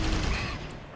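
Gunfire in the colony-building game RimWorld: a dense, rapid burst of overlapping shots filling a single loud second, with no voices over it.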